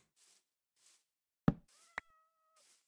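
A Minecraft cat gives a couple of short, clear meows against near silence, with soft faint footstep-like blips around them.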